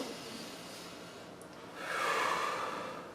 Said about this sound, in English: and then just breathe through your nose